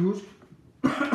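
A person coughs once sharply at the start, then after a quiet pause a louder burst of coughing or throat clearing follows, close to the microphone.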